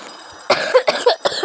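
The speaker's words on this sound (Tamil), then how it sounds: "என்னடா இருமுறைன்னு கேட்குறீங்களா?" A feverish person coughs three times in quick, close, loud bursts, each one dry and harsh, after a brief quiet moment with faint background hiss.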